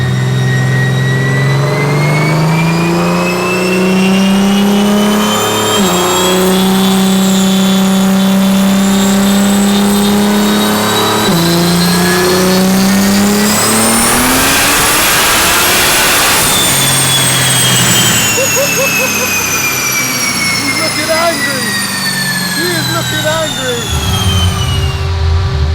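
A tuned BMW engine runs on a dyno at around 40 PSI boost, a loud sustained high-revving roar that climbs steadily to a shrieking peak, then drops back and winds down.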